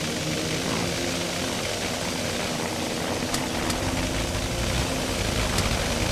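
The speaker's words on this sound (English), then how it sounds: "We are turning on the engines." Engines of WWI aircraft on an airfield in the flight game Wings Over Flanders Fields, a steady, loud, rumbling propeller drone that holds without a break, with no talk over it.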